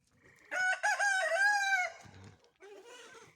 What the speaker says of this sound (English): And then we have our hens, obviously.